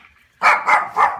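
A dog barks three times in quick succession, loud and close, in a workshop where a Norton Commando 750 motorcycle is being restored.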